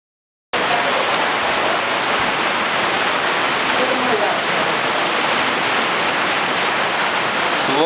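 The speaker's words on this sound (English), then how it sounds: "So once again it's raining like crazy, and once again I'm lucky to be under some roof." Heavy tropical rain pours down steadily in the Amazon rainforest during the rainy season, a dense, loud, unbroken hiss that starts abruptly after a moment of silence, heard from beneath a roof.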